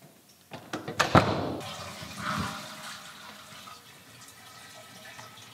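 A toilet flushes indoors: a sharp clunk of the handle, a gushing surge of water, then a fading trickle and hiss as the cistern refills.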